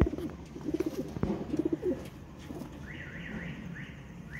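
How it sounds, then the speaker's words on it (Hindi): Pigeons coo in a series of low pulsing calls at the start, fading into quieter murmuring, with faint rising tones in the background and a soft knock at the end. "बाकी ये जी कबूतर है माशाल्लाह"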